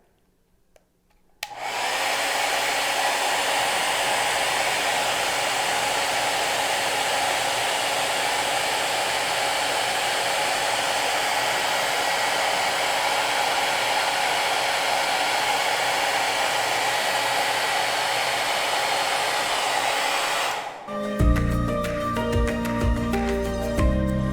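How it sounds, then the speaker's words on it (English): A hair dryer blows a continuous, loud, steady air stream holding a floating ball aloft, switching on abruptly and running for about twenty seconds before cutting off, followed by brief clattering handling sounds. "turn the hairdryer so the ball is floating at an angle instead of straight up and down"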